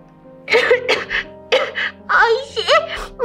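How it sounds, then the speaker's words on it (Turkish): A child coughs repeatedly in a Turkish children's educational game about a sore throat, several loud, close, harsh bursts in quick succession with brief pauses between them. "öksürük başladı gene"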